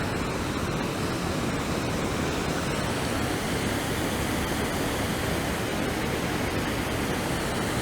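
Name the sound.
water flowing at Bridgeton Mill by covered bridge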